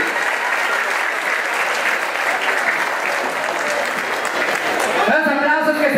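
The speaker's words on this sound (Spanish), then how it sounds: "Los aplausos que se escuche." Audience at an LGBT pride march recognition ceremony applauds the march's founder, a loud, sustained burst of clapping from a crowd, with a voice starting to speak over it near the end.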